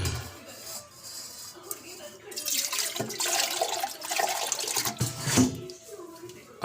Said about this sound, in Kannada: ಒಂದು ಚೊಂಬು ಇಷ್ಟು ನೀರು ಬಿಡ್ತಾಯಿದ್ದೀನಿ